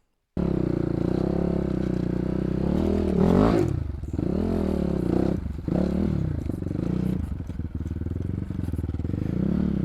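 An enduro motorcycle riding on a muddy track, its engine loud and close, rising and falling as the rider revs through several surges, with clattering and scraping from the terrain.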